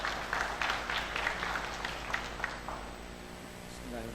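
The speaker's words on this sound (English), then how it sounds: "A round of applause, ladies and gentlemen." Audience applause at a railway closing meeting, a scattered, moderate patter of clapping that thins out near the end as a voice begins.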